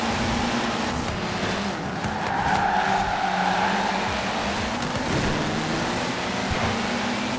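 Ford Fiesta GRC rally car in Forza Horizon 4 accelerating hard around a corner, a steady loud engine drone with tire skidding and squeal, continuous throughout with no talk.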